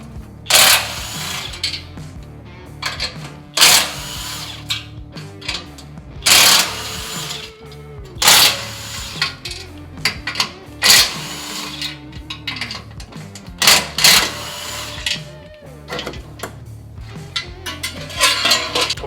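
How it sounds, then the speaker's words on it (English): An impact wrench with a 14mm socket zips off the nuts holding a 2016+ Toyota Tacoma front bumper, sounding in loud, close, repeated short bursts separated by pauses and metallic clinks. "I'm going to use an impact and just take it off in 2 or 3 pieces"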